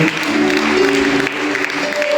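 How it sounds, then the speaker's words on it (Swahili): A congregation at an Easter church service breaks into a short burst of clapping, loud and close, with tonal voice or instrument sounds running over it. "Tumpe Yesu sadaka nzuri ya makofi."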